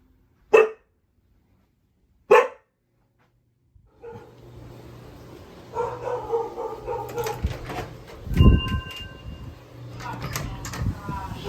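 Two sharp, loud dog barks ring out near the start, then a person talks over background clatter and movement.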